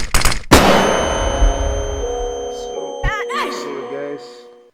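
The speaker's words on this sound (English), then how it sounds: "Deploying flashbang." A flashbang grenade goes off with a sharp metallic clang and a blast. A bright ringing tone follows and decays over several seconds, with some brief warbling effects near the end.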